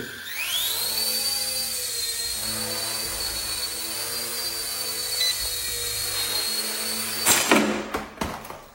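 A 1:48 scale RC ERA UH-1 helicopter with a 6-axis gyro spins up its rotor for takeoff, a steady high electric whine rising quickly and holding, then ending in abrupt clattering knocks near the end.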